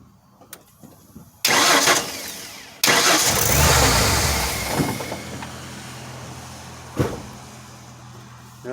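A 1994 Ford F250 with the 4.9L six-cylinder runs while its serpentine belt walks off the idler pulley: loud, close engine bursts start abruptly, then a rough running rumble that slowly fades, with a brief sharp flare near the end.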